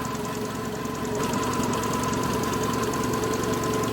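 A Skoda Octavia Mk1 engine idles nearby with a steady rhythmic knock and hum, getting a bit louder partway through.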